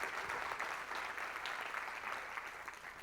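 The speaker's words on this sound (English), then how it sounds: "All right, give these guys a hand." A church congregation applauds, dense steady clapping filling the room at close range for several seconds without letup.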